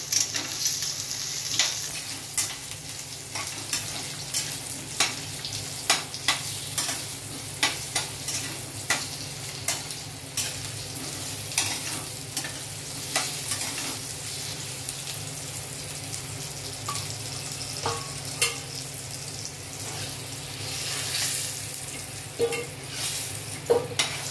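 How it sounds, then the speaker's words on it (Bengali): Salted potatoes fry in a kadai with a continuous close sizzle, punctuated every second or two by sharp scraping clicks of a spatula stirring against the pan. "একটু নুন দিয়ে দিচ্ছি, কেননা এগুলো তাহলে কড়াতে লেগে না যায়। আলুটা ভেজে রাখছি।"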